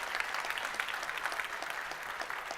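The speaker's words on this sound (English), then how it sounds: "A mid-debate applause." An audience at a plastics debate claps in a short, even burst of applause, fairly quiet and steady, with no talk over it.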